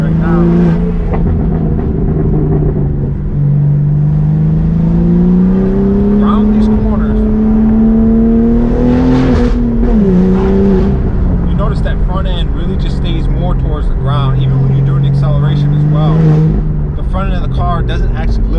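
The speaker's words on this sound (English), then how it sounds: "Exhaust is sounding good right now." BMW M4 G82 exhaust while driving on lowered suspension, a steady low drone that rises and falls gently with throttle through corners, loud and continuous, with someone talking over it at times.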